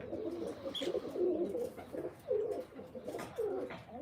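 Domestic pigeons in a Malwa-style loft coo in repeated soft, rolling phrases. The calls overlap and rise and fall close by, with a faint chirp early on.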